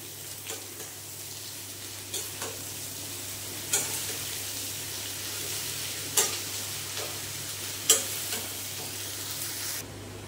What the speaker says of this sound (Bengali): এবার এইটা দিয়ে সুন্দর করে আরো করে ভালো করে কষিয়ে নেব।